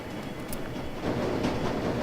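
A U-Bahn train ride in Shadowrun Returns: Dragonfall, a steady, loud rumble of rolling rail carriage noise with a faint rhythmic clatter.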